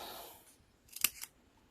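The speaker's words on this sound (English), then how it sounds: "I need my glue scissors that I use for adhesives. We'll cut that piece off and cut this." Glue scissors cut through adhesive paper in card-making, a short close snip with a second smaller snip just after.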